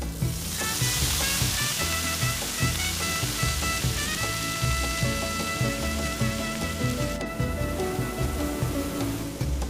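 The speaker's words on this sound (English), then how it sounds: "let us cook the fish in the same hot pan to capture all those delicious juices" Fish sears in a hot pan for fish tacos, giving a loud, steady, close sizzle that crackles and hisses without a break throughout, with no voices heard.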